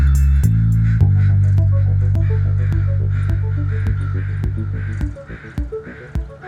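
Crows cawing in a series of short, repeated calls over a loud, steady low hum that fades toward the end.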